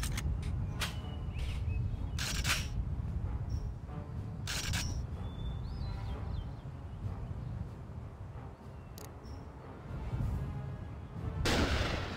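TimeSplitters gunfire, a series of sharp, punchy shots spaced irregularly over a rumbling game background, loud and close, with a heavier burst near the end.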